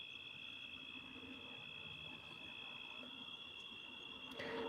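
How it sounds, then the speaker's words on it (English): A cricket chirping outdoors at night in a quiet neighborhood, a continuous high trill holding steady over faint background hiss, with a brief sharper noise near the end. "That's a cricket."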